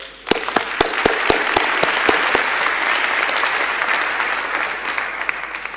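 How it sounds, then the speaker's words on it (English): Quick applause from the audience for the four finalists at the ECSS 2019 closing ceremony in Prague: a few sharp, separate claps swell into a steady crowd clapping that holds evenly, then slowly thins. "Can we have just a quick applause for?"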